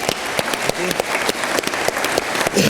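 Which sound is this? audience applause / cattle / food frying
audience applause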